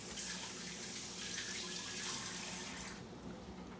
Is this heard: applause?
no